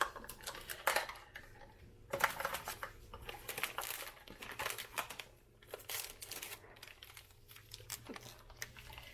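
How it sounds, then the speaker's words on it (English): A resealable plastic package of Easy Gel pectin handled in a home kitchen during blueberry pie filling canning, with quiet, close crinkling and rustling in irregular bursts throughout and no speech. "This does come in a resealable package, which is nice."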